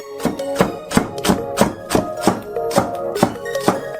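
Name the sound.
knife chopping green onion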